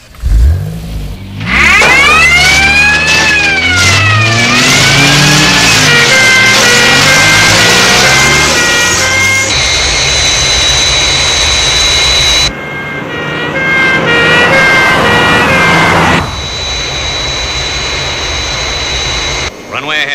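Airport crash tenders wailing with rising and falling sirens alongside the loud roar of a jet aircraft approaching the runway, sustained and close, with tones shifting and cutting in and out.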